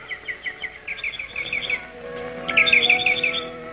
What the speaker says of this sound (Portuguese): São umas aves sujas